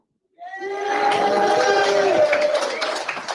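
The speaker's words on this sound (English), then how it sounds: "It's a pretty cool little intimate crowd here on this Friday." A small, intimate live crowd on a Friday in Springfield, Missouri bursts into cheers and whoops that swell quickly and hold for a few seconds, sounding close and lively.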